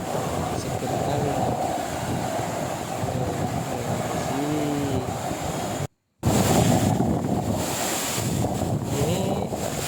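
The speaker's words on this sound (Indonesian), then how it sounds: "di sini tuh anginnya kencang sekali teman-teman" Strong gusting wind roars steadily into the microphone beside a waterfall at Curug Pasir Reungit in Pamijahan, Bogor, with falling water blending into the rush and a faint voice briefly heard beneath it.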